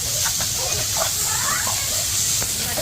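Onions with salt sauté in a pan under a steady close hiss of frying, with faint scraping from stirring throughout.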